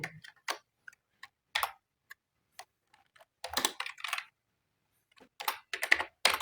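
Keys clack on a computer keyboard in short bursts and single taps separated by silent pauses, close and crisp, with no voices.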